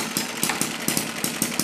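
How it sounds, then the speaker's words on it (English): A drag saw's small engine idles steadily close by, its exhaust beating in a quick, even pulse of about five thumps per second, with no voices over it. "So now we've seen the drag saw cut a log the way it was intended to."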